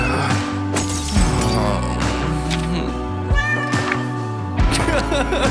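A cat meows several times over a background of sustained music-like tones, with a few sharper bursts mixed in.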